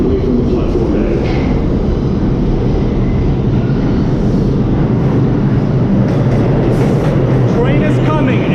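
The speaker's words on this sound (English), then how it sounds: "Train is coming. It's loud." A New York City subway train roars into the station, a loud, steady rumble with rail clatter and brake squeal toward the end, filling the whole span with no quiet gaps.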